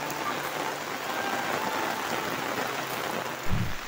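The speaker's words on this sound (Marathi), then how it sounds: "किती जोरात पाऊस आलाय बघा मित्रांनो, खूप जोरात पाऊस आहे." Heavy monsoon rain pours down steadily over rice fields in the Konkan, a dense even hiss up close, with a brief low thump near the end.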